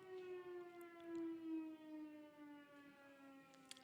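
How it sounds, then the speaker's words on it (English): A steady civil defense siren wails alone, its pitch slowly sliding downward across the whole stretch, heard from a distance at moderate volume. "I was able to time the siren."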